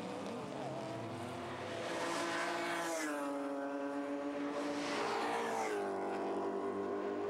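A BMW Z3 M Coupe race car at Pukekohe lapping the track, its engine note rising and falling through gear changes and speed shifts, loud and continuous, with a brief tyre squeal and no voices.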